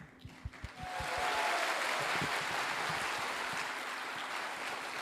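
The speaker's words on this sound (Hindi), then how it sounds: "इनके लिए एक जोरदार ताली।" An audience applauds its leaders at a motivational seminar: after a few scattered early claps, a dense, steady round of clapping swells and fills the room, continuing evenly to the end.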